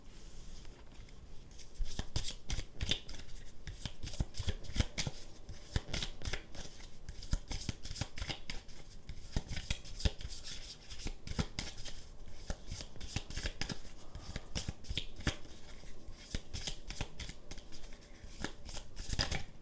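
Tarot cards shuffled close up, a steady rapid patter of riffling and flicking card edges that runs on without a break at an even level, with no speech.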